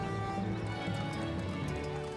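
A horse pulling a cart in a film scene, its hooves clip-clopping in a quick steady rhythm close by, blended with a continuous bed of background sound.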